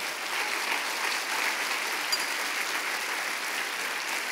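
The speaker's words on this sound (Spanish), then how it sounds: "Dar un aplauso fuerte a Cristo." Church congregation applauding, a dense steady wash of many hands clapping at moderate loudness, sustained throughout with no voices.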